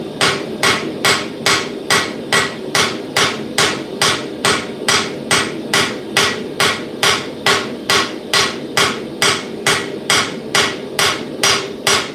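Steady hammer blows forging a knife blade thin with a distal taper at a smithing forge, about two strikes per second, loud and evenly spaced over a constant low roar, with no talking.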